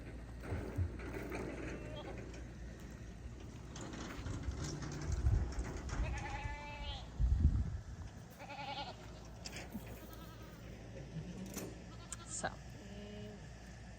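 Goats on a homestead family farm bleat in short calls scattered through the clip, with a few louder bursts around the middle, over low background rumble and brief handling noise.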